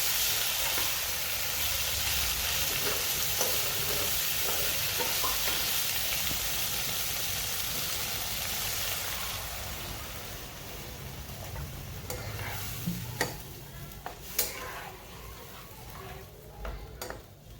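Drumstick curry sautéing and being stirred in a pan, a steady close sizzle and hiss with scraping stirs, easing off partway through into quieter simmering broken by sharp clinks of the spoon.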